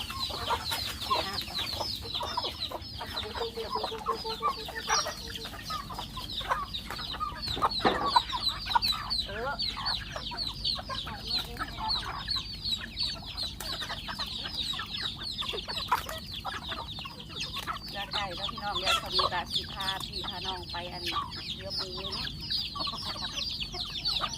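Many chickens cluck and chatter continuously nearby, a busy flock sound with occasional louder squawks and faint voices in the background.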